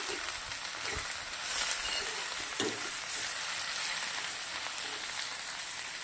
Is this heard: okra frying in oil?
yes